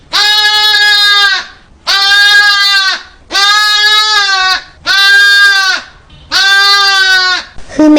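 A lamb bleats five times in a children's animal-noise guessing game, each cry loud, close and drawn out for about a second with short pauses between.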